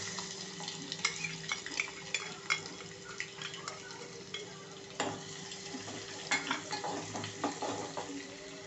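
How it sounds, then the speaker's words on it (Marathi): Crushed garlic sautéed in crackling tempering oil for Rajasthani mirchi, a faint steady sizzle with light scattered pops and small ticks of a spoon, heard alone and fairly quiet. "लसूण थोडासा छान असं परतायचा आहे"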